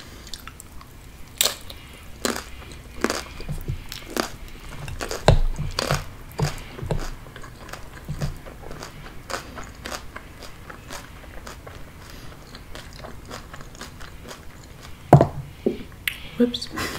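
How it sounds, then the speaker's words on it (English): Crunchy American snack food is bitten and chewed up close, mukbang ASMR style, with a steady series of sharp crisp crunches and crackles scattered over a quiet background and a louder bite near the end. "Maybe this can be like half mukbang, half ASMR, where I just eat the food."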